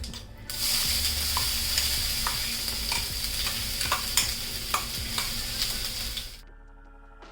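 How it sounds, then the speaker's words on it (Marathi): Ground ginger, green chili and garlic paste sautéing in oil with mustard seeds for Mumbai vada pav, a loud continuous sizzle with repeated spoon stirring scrapes against the pan, then a sudden stop near the end. "हे वाटण पण आहे ना याचा कच्चा वास जाईपर्यंत आपल्याला एक दोन मिनटं चांगलं व्यवस्थित परतून घ्यायचं आहे"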